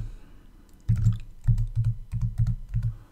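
Keys tapped on a computer keyboard while writing HTML and JavaScript, including the Tab key, giving a short run of close, distinct clicks at a steady rhythm.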